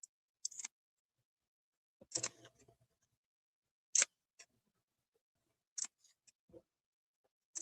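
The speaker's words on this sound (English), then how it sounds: "I'm just going to continue to snip" Scissors snipping paper to cut a shape for a journal cover: several separate sharp, crisp snips with quiet gaps between, close up in an otherwise silent room.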